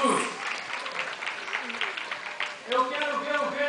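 Applause from an audience at a church dinner event, a steady dense patter of many hands that swells toward the end, with a voice speaking over it.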